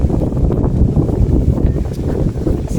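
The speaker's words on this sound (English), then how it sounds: "It's a bit windy." Wind buffets the microphone in a steady, loud, low rumble with gusty fluctuations, outdoors at the Heights of Abraham hilltop in the Peak District.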